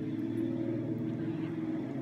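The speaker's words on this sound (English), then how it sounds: "Sorry about the traffic noise." Low, steady engine rumble of passing cars hums in the background, a droning traffic noise that stays fairly constant and moderately quiet.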